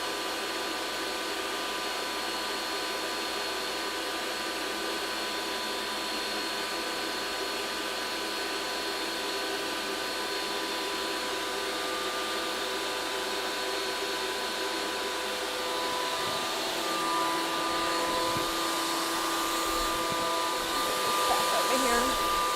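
A Ninja Creami Deluxe ice cream machine runs with a steady, loud whirring drone, its tone shifting and growing rougher toward the end as the blade comes up.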